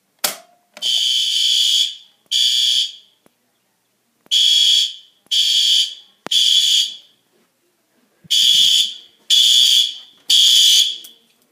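A pulled fire alarm starts with a sharp click, then blares in loud, piercing buzzing blasts grouped in repeating threes with short pauses between them.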